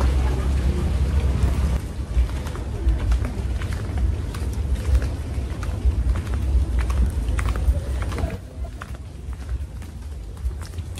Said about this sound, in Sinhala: දැන් නම් පොඩි වැස්සක් ඇවිල්ලා තියෙන්නේ.